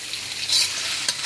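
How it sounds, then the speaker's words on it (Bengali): Chopped carrots hit a hot pan with lightly fried ginger and garlic, giving a brief, bright sizzle and stir-frying crackle, close and loud with no talk. "আদা রসুনটা হালকা ভাজা হয়ে গেছে, এবারে দিয়ে দিচ্ছি আগের থেকে কেটে রাখা গাজর।"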